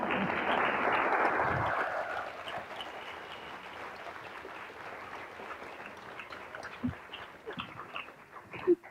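An audience at a conference applauds, a burst of clapping that is loudest at first and then thins and fades into scattered claps and room noise.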